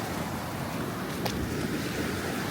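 Sea waves washing in a rocky cove: a steady, broad rushing wash of surf close by, mixed with wind noise on the microphone, with no talking.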